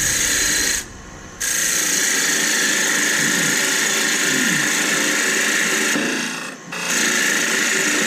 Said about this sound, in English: I'm going to go ahead and cut a tenon on each end of there.